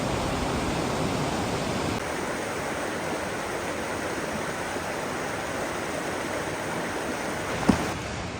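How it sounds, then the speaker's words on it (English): A creek near the abandoned Buck Mountain Tunnel flows in a steady, broad rush of water that stays even throughout, with one brief knock near the end. "I got a little swept up in the beauty of the creek right there"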